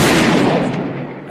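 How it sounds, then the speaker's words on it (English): A single loud gunshot from a grandfather's gun fired into a dark night forest, a sharp close blast whose broad burst decays over about a second. "A gunshot. The gun went off and lit up everything for a moment."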